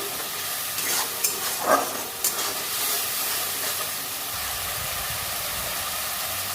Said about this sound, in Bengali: ফুলকপি রসা মশলা কষে নেবো